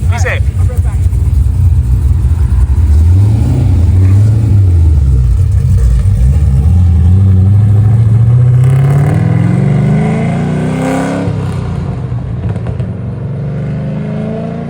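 Car engine revving hard and pulling away, loud and close at first, pitch climbing through the gears as it accelerates off into the distance.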